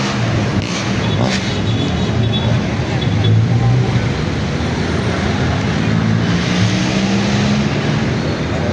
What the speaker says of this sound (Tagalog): Ang ingay mo naman, nagmamadali ka. Kuyang truck kayo na nagmamadali.